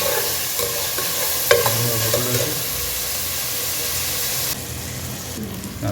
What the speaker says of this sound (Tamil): முருங்கைக்காய் போட்டுக்கிறேன். இந்த எண்ணெயிலே கொஞ்சம் அப்படியே வதங்கட்டும்.